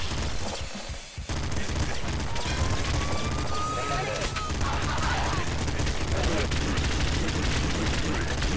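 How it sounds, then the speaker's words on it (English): Rapid pop gun fire from the Nuclear Throne video game as a dense, continuous stream of small popping shots with explosive bursts, loud and steady throughout, with faint game effects underneath. "The reason I'm taking the pop gun is it's had like a substantial rate of fire increase."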